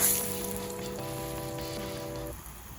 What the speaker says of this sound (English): I'ma just rinse them off because I don't like this color anymore